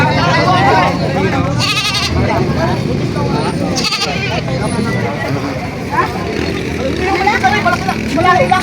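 Goats bleating repeatedly over a busy, noisy background with people talking nearby, at a goat sale.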